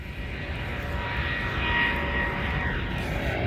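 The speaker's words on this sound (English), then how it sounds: "There's another airplane right here. Wow, that's so close." An airplane passes low overhead near Playa Del Rey Beach in California, its engine roar broad and steady, swelling slightly in the middle, loud and close with no talk.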